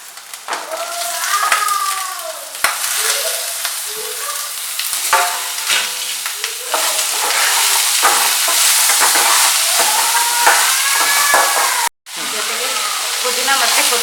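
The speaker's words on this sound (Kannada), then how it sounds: "ಸ್ವಲ್ಪ ಹಸಿ ವಾಸನೆ ಹೋಗೋ ತನಕ ಫ್ರೈ ಮಾಡಬೇಕು," Masala spices dry frying in a pan for mutton sambar, with steady close sizzling and repeated stirring scrapes over about fourteen seconds, a brief cut near the end, and a few voice-like tones in the background.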